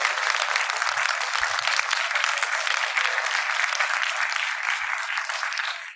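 A large audience at an institute summit and awards evening in Pune claps in a dense, sustained burst that holds steady for several seconds, loud and close, with no other sound standing out.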